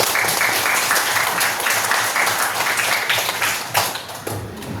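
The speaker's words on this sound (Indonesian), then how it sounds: "Tepuk tangan untuk kita semuanya" A classroom of junior high school students claps together for a few seconds, a dense, fairly loud burst of applause with uneven rhythm that tapers slightly near the end.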